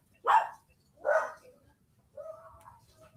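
Dogs barking at a neighbor's horses arriving home at night: two sharp, fairly loud barks about a second apart, then a longer whining, whimpering note, with a quiet background.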